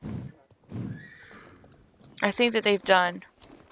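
Horse neighing in the Star Stable video game, a wild horse model: a short whinny after soft hoof sounds, then a loud, clear neigh that rises and falls for about a second.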